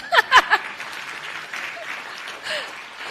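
Scattered audience applause at a corporate capital markets day for an ice cream company, a few loud bursts up front then a thin, faint patter under room noise, with a brief voice murmur.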